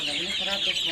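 Chickens in a coop holding about 100 birds cluck steadily at close range, a dense, continuous bird chatter with faint voices in the background.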